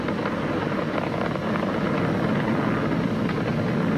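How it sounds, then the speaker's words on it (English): The Falcon 9 rocket carrying Crew Dragon roars during ascent, a dense, steady, rumbling wall of sound from its engines, distant and unbroken, with no talking over it. "Vehicle is supersonic. We've exceeded Mach 1 on the Falcon 9."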